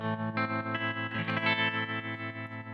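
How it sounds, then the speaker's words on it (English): Electric guitar through a Strymon Mobius in tube-mode tremolo, smooth and slightly crunchy, at a fast rate with high depth: dense sustained chords with a steady rhythmic volume pulse, close and loud, without talk. "I've got it in the tube mode, which is a smooth, crispy, not super clean tremolo sound"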